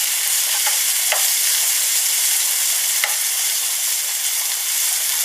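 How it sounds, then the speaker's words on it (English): Onions fry and get stirred in a pan with a loud, even sizzle that runs unbroken, plus a few faint scrapes and taps from the stirring. "So we're going to stir these onions over here too."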